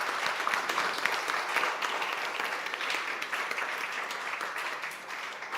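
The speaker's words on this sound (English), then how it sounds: "I really would like to have a big applause for the 4 families for your willingness to share." An audience at a seed-sector family business congress luncheon applauds four families, sustained clapping of fairly quiet, even intensity that eases slightly toward the end.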